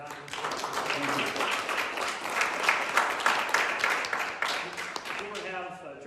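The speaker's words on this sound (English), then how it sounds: "let's have a round of applause for Dr. Diamond" Audience applause after a presentation on mandated randomized clinical trials, a steady burst of many hands clapping that holds for several seconds, with a voice speaking briefly at the start and end.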